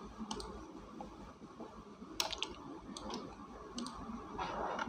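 Sparse computer keyboard clicks and key taps, a few sharp isolated clicks spaced irregularly over a low steady background hum, fairly faint and close, with no talking.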